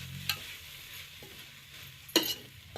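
Frying in ghee over a medium gas flame for a sweet potato payasa: a soft, low sizzle broken by two quick scraping stirs, heard close and fairly quiet, with no talking.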